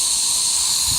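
Steam hissing up and out of the stack of a small live steam locomotive, a loud continuous close hiss with no break.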